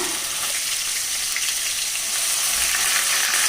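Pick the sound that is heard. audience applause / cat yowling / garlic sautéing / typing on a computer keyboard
garlic sautéing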